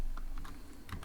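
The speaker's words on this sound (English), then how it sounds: "Next I'm gonna type" Short burst of fast typing on a computer keyboard while entering Python code, crisp close key clicks with no voices.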